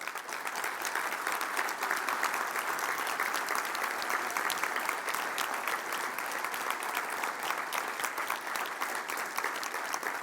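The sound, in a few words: audience applause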